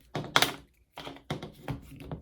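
Plastic clicks and thunks from a flaming translucent arm blade being pulled off a McFarlane Toys Doom Slayer Ember Skin action figure: several close, sharp knocks in quick irregular bursts, with no talking.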